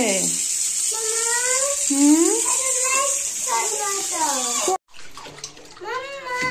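Hot water gushes steadily from a tap into a bath with a constant hiss, while a child and an adult talk over it. The rush stops abruptly near the end.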